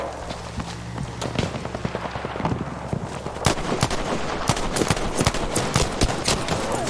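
Rapid bursts of rifle fire from a Ross Rifle Mk III in the shooter game Battlefield V, many sharp loud cracks in quick irregular succession amid other battlefield gunfire and impacts.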